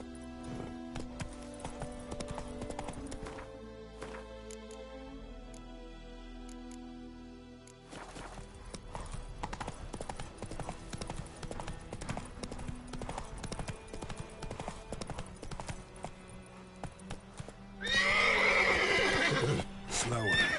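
Hooves of a horse galloping in Witcher 3 sound as a fast continuous clip-clop with neighs, layered over game music and ambience, loud and near, with a louder rushing burst near the end.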